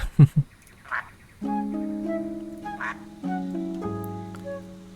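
A few quacks from ducks in the cozy building game Tiny Glade, short and close near the start and middle, set against soft sustained musical tones.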